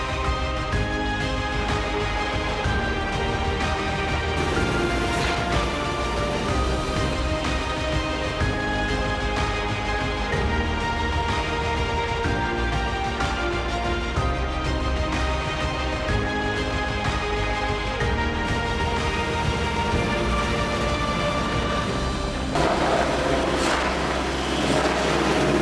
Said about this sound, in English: when you're driving the 32 Ford with straight pipes, you can really make it resound.